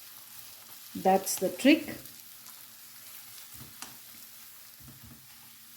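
Green pea gravy frying on low heat in a non-stick pan, a faint steady sizzle with a few soft stirring scrapes, under a brief burst of speech near the start.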